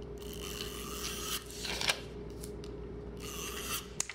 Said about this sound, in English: take my Scotch tape and tape the back of this card all around, making sure I hit all 4 corners